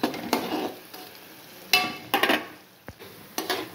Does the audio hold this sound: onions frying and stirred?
yes